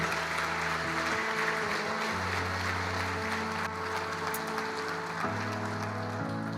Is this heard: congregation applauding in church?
yes